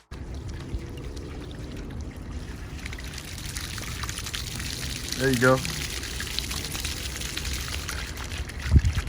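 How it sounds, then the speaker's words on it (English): Water flushes out of an open sprinkler line in the yard, a steady pouring rush under outdoor background noise, with a brief spurt midway and a short spoken remark. "we decided to flush the line to make sure the water's clear"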